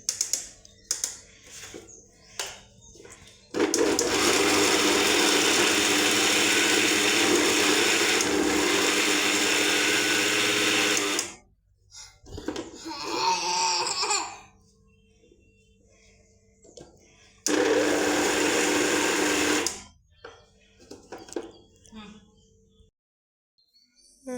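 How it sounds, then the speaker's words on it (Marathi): A kitchen mixer grinder grinds chapati pieces into churma in loud whirring bursts, a long run, a brief pause with rattling, then another shorter burst, with speech in between. "आता मिक्सरला मी मस्तपैकी हे दळून घेते चुरण्यासाठी"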